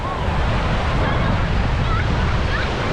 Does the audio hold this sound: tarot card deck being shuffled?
no